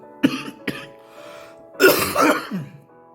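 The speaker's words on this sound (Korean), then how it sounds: "기침이 끊어질 듯 말 듯 하다가 아직도 이렇게 좀 남아 있습니다" Two short dry coughs from a lingering cough of nearly a month, then a longer throaty cough and throat clearing, close up and otherwise quiet.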